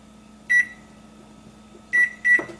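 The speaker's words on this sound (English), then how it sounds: "we're going to go ahead and set the kitchen timer for" Sharp electronic beeps come from a digital kitchen timer being set during stew cooking: one beep, a pause of over a second, then two more in quick succession. They sound close and crisp over a faint steady hum.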